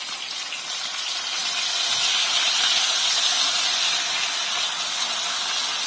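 Beer poured into hot pans of meat for braising chicken and pork ribs gives a loud, steady steamy hiss that swells slightly and holds for several seconds, close and alone.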